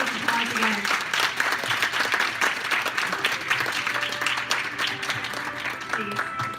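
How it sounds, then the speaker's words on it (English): Sustained audience applause at an award ceremony, dense steady clapping from a large room that holds at an even level for several seconds before easing slightly at the end. "let's give them a big round of applause again"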